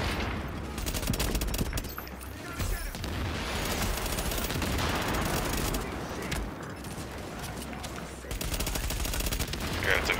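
Heavy sustained gunfire in The Division, a tactical shooter, with dense overlapping automatic bursts and loud shots pounding steadily for about ten seconds, with a brief lull near the middle.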